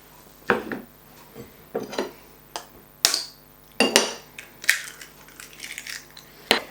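A spoon knocks and scrapes around a bowl while an egg is stirred into Welsh cake mixture, giving a series of sharp clinks and scrapes at an uneven rhythm, close and fairly quiet, with no voices.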